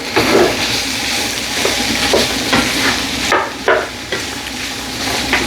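Food being stirred and mixed in a pan for a home-cooked meal: close, steady scraping and rustling with repeated spatula strokes and a soft sizzle underneath, no voices.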